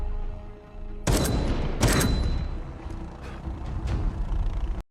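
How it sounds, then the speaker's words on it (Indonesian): Gunfire from a long-barreled rifle in an action film scene as a helicopter is shot down, heard as two sharp, loud blasts that ring out over a dense, rumbling soundtrack with further impacts and debris underneath. "memutuskan menembak jatuh helikopter itu dengan senapan laras panjang"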